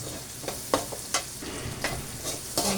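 Onion stirred into garlic frying in a pan for chicken and green peas in tomato paste, giving a steady sizzle broken by several distinct scraping stir strokes, close and moderately loud with no talking.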